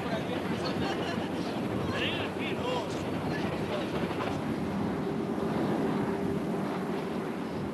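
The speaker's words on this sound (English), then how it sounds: "Now it switches to another track and backs up the side of Devil's Nose" A train switches tracks and backs up the side of the Devil's Nose mountain, a continuous rolling rumble with faint wheel clatter and a brief squeal, steady and moderately distant.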